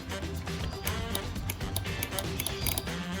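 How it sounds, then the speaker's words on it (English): Automotive relays for wiring Honda Odyssey seats into a project car tick repeatedly as power is applied, a fast irregular series of sharp clicks over a steady electrical hum. "which hopefully you can hear by the ticking"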